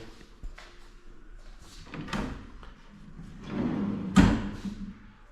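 Wooden drawers slide and knock as they are pulled out during post-construction cleaning, with a few sharp thumps and scraping, one louder bang near the end.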